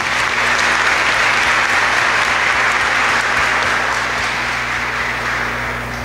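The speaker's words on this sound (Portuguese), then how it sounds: "Vamos dar para eles também uma salva de palmas." Loud, sustained applause from the congregation at a friar's solemn religious profession ceremony, dense clapping throughout over a low steady hum, easing slightly toward the end.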